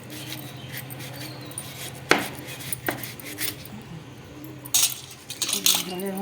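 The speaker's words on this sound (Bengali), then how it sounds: "আমি একটা আম কাটা দেখিয়ে দিচ্ছি, এইভাবে আমি কেটে নিচ্ছি।" Raw mango being cut with a knife, giving a few crisp close chopping thuds and clicks over a low steady background hum, irregularly spaced, without talk.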